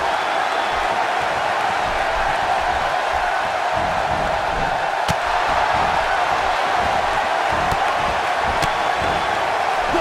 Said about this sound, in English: if you want to know the strength of WWE here in Japan, just listen to this Tokyo crowd